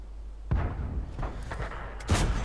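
The SU-85I tank destroyer's cannon in the video game World of Tanks fires three heavy booming shots, spaced about a second apart, each a sharp thud with a rolling tail, loud and close.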